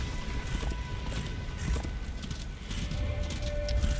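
Horse sounds in the Darksiders II video game: rhythmic hoof clip-clops over a dense game soundscape, steady and moderately loud, with no speech.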